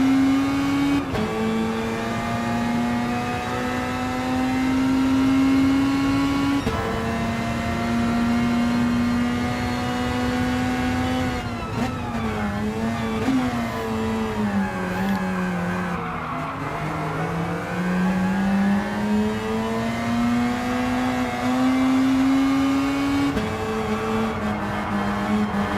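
Racing-game cars, a Miura and a GT40, scream at high revs in a replay, with long sustained engine notes that dip and climb through gear changes, and tire squeals and skids in the middle of the run.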